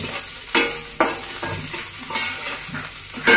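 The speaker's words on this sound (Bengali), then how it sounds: "আমার এখানে রসুন ভাজা হয়ে গেছে" Garlic frying and being stirred in a pan, a steady sizzle broken by several sharp scraping stir strokes at irregular intervals, close and fairly loud with no voices.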